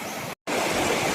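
Rushing river rapids near Bedham Falls in Malinao, a close and continuous broadband roar of water broken by one abrupt short silence before the flow resumes, with nobody talking.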